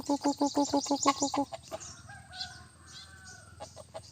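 A bantam chicken on a perch gives a quick run of rhythmic clucks, about nine close pulses, then softer, scattered calls trail off against a quiet background.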